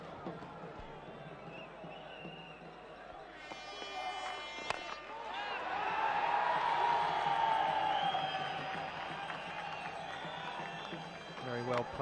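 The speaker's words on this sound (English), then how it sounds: "a little bit noise in the crowd, mostly from the Indian supporters" Crowd noise at a 1999 Cricket World Cup match at Leicester, mostly Indian supporters, rises to a broad swell of cheering and whooping midway and then settles, with commentators talking over it throughout.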